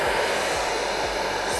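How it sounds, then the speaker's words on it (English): A blow dryer on high heat used to steam wrinkles out of a dance costume: a loud, steady close-up whooshing roar with a faint low pulsing underneath, no talk. "my favorite option is a blow dryer"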